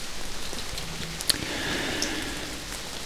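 Steady rain falling through a forest in the video game Amayui: Castle Meister, a continuous even patter with a couple of brighter drop ticks, moderately loud with no voices.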